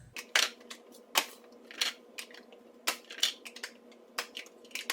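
Plastic Harvest Right tray lids snap onto freeze-dryer trays of food, giving several sharp crisp clicks and crinkles spaced irregularly, close and fairly quiet over a faint steady hum.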